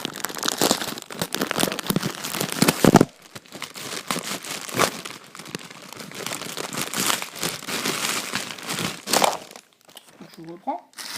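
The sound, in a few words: cutting open plastic packaging of tactical vest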